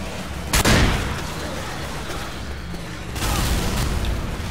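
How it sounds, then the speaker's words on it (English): Left 4 Dead 2 shotgun fire, a sharp loud blast near the start followed by a second burst later, over constant game ambience and background noise. "Mid-range shotgun snap."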